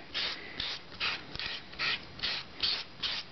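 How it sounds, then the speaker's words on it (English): Sandpaper rasps rhythmically against wood, about seven steady back-and-forth strokes, close up and soft, with no talking. "So I'm using a piece of sanding paper"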